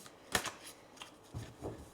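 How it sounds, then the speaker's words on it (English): Tarot cards are shuffled by hand in a few quick, soft riffles and flicks, close and quiet, with brief pauses between bursts. "Okay, one last shuffle, and let's see what does the tarot have to say"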